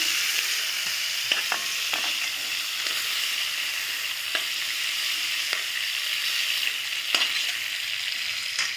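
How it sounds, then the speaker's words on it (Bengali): Fish frying lightly in hot oil with turmeric and salt, a loud steady hiss and crackle that holds throughout, with a few sharp pops and occasional utensil taps, close and without speech. "তো মাছটা হালকা ভেজে আমি তুলে নিচ্ছি।"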